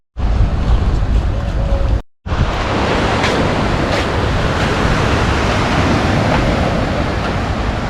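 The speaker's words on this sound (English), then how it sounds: "the beach is there. Let's go to the beach." Ocean surf on a beach in Marbella, Spain, a continuous loud wash of breaking waves with heavy wind buffeting the microphone, briefly cut off near the start.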